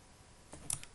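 A few quick keystrokes on a computer keyboard while entering PHP code, faint and close, a short cluster of soft clicks after a near-silent pause.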